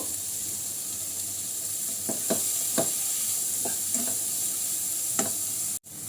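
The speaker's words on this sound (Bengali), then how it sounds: "পেঁয়াজটা একটু হালকা করে ভেজে নিব। বাটার দিয়ে করবেন" Onions and green chillies fry in butter with a steady, close hiss, broken by a few soft stirring scrapes and taps before a brief dropout near the end.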